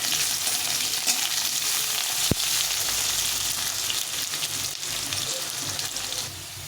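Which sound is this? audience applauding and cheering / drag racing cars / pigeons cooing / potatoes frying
potatoes frying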